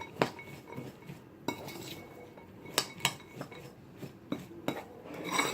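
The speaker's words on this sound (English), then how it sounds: "what we want to do is just get a spoon and give them a mix until all of them are coated" A spoon stirs pumpkin pieces in a bowl, giving scattered close clinks and knocks against the bowl over a soft scraping, irregular stirring background, with no talking.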